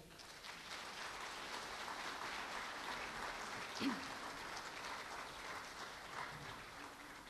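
An audience at a 60th anniversary concert of the ensemble Kolos claps steadily, a soft, distant, even patter of applause like rain, with one brief louder sound near the middle.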